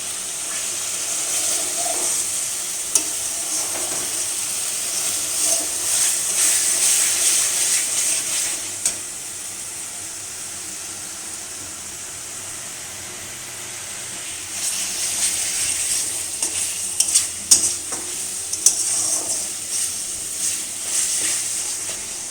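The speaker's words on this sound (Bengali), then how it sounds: "থেকে 10 মিনিট মশলাটা কষিয়ে নিয়ে" Onion, ginger and garlic masala with cumin and chili powder stir-fried in a pan, a hissing sizzle that swells and fades with sporadic scraping and clinks of stirring, close and fairly loud.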